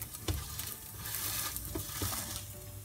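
French toast soaked in milk, egg and brown sugar sizzles steadily in a pan at home, a soft continuous frying hiss with a few brief stirring or scraping clicks, no voices.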